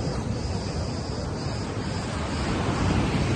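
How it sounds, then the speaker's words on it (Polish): Big sea waves crash and surge onto the shore in a steady, loud broadband roar, with wind buffeting the microphone throughout and no voices. "naprawdę dzisiaj fale są kosmiczne"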